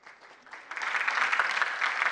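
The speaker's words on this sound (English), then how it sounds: "we're going to keep that applause going" An audience at a televised budget forum in Ghana breaks into applause that swells from a scattered start into dense, sustained clapping.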